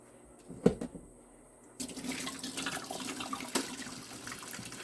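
Water poured out of a rock tumbler barrel holding banded iron stones: a couple of sharp knocks, then a sudden steady gush of splashing water that runs on fairly close.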